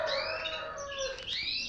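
A caged canary sings nearby in a continuous run of bright, high whistling chirps and trills, clear and fairly loud.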